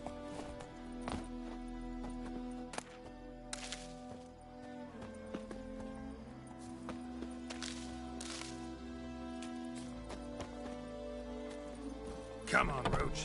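Hoofbeats of Roach, a horse in The Witcher 3 video game, clip-clop steadily under game music and a speaking voice, with a brief louder burst of clatter near the end.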